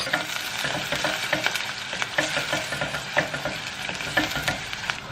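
Onions and tomato paste fry in a pan with a loud, steady sizzle, while a spoon scrapes and stirs in a regular rhythm of close strokes throughout.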